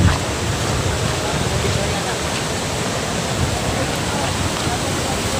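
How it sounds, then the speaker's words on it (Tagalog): The second cascade of Talon Pari Falls in Doña Remedios Trinidad, Bulacan pours with a dense, steady roar of falling water, loud and close, constant throughout. "Ito ang number 2 talon."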